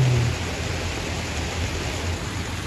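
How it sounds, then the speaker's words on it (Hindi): Rain falling outdoors at a brick kiln: an even, continuous hiss of rainfall, moderately loud and unbroken, with no voices. "अरे भाई आते ही बारिश शुरू हो गई"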